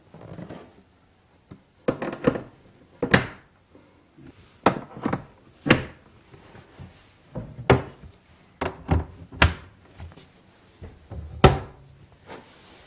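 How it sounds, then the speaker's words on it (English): Cabinet door with a clip-on European hinge snapped onto its mounting plate, giving a series of sharp wooden clicks and thunks spaced irregularly, close and fairly loud, with no talking. "I just align the front of the hinge with the front of the mounting plate and click it in place"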